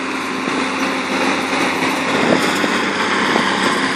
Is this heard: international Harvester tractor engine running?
yes